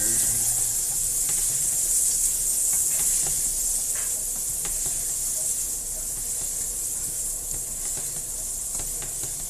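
Steady, bright sizzling hiss of pork chops frying in a pan, with scattered pops and crackles throughout, close and continuous.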